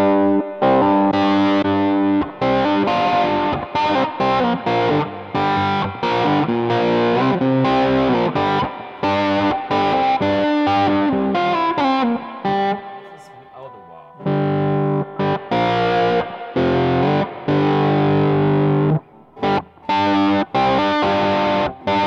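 An electric Stratocaster, middle and bridge pickups together with the tone knob fully down, plays a riff through a wah pedal: choppy, distorted, vocal-sounding chords in a steady rhythmic pattern, loud and upfront with brief pauses.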